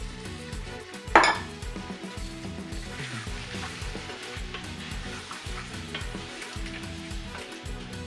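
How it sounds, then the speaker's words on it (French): Water poured into a pan of sizzling beef curry with carrots and potatoes: a sharp splash and hiss, then a steady bubbling sizzle with rhythmic stirring scrapes against the pan. "On va rajouter un peu d'eau, pas trop quand même."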